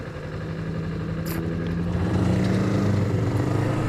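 Motorcycle engine droning steadily while riding in third gear on a sunset road, a continuous loud hum that builds slightly in pitch and volume, with wind noise and no talking.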